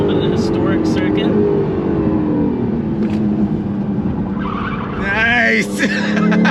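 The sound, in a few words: Acura Integra Type S V6 turbo engine accelerating on track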